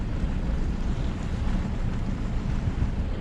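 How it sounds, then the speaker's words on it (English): Strong wind of over 20 knots buffets a sailboat at sea on a passage from the Bahamas to Newport, a steady, loud broadband roar with wind rumble on the microphone and water wash beneath, unbroken throughout. "the wind's probably blowing over 20 knots"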